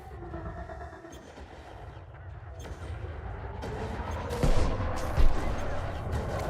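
Spaceship cannons firing in the space combat game Elite Dangerous Odyssey, a steady rumbling engine bed with a couple of heavier booming shots near the end, no talking.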